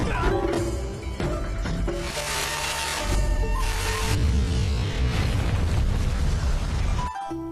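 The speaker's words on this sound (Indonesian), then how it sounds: "bom itu meledak dahsyat menghancurkan tempat Hizuzi" Bomb going off violently, a loud sustained blast with rumbling booms, cracking debris and mechanical clatter rolling on for several seconds before cutting off abruptly.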